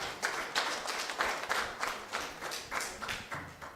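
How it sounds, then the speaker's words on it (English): A small group at a live broadcast forum on access to justice for women and girls gives a round of applause for facilitators, with faint, loosely rhythmic clapping heard at a distance. "Let's give them a round of applause,"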